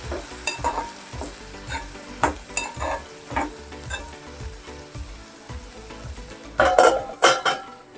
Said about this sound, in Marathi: झाकण ठेवायचं असं उघडून बघायचं मध्ये मध्ये चाळायचं